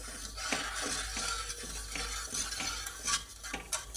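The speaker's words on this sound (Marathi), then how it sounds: "अर्धा किलो साखर टाकून घ्यायची असे असं छान हलवायचं" Half a kilo of sugar stirred in a pan for gulab jamun syrup, a soft rhythmic scraping and swishing of a spoon against metal, close and quiet, with faint clinks and no speech.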